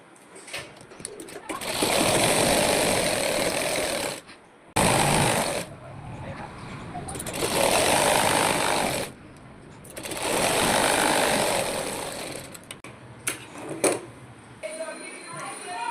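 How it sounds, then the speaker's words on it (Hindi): Close, loud sewing machine stitching the second side of palazzo pants, running in long sustained bursts of several seconds separated by short pauses, with softer handling noises in between. "अब सेम इसी तरीके से हम दूसरी तरफ भी सिलाई लगा लेंगे"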